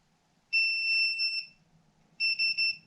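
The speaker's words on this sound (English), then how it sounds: "pull this trigger and hold it back, you'll hear beeping" A Classic Army Nemesis X9 airsoft gun's electronic trigger unit gives two bursts of high beeping: one long steady tone, then after a pause three quick beeps, clear against a quiet background.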